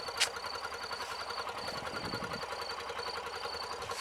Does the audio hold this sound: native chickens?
no